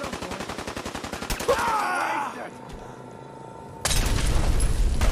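Gunfire in a video game castle battle: a rapid burst of automatic shots, then a heavy boom and a lull before another loud blast crashes in.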